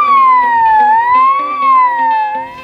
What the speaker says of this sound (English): There's even a siren button.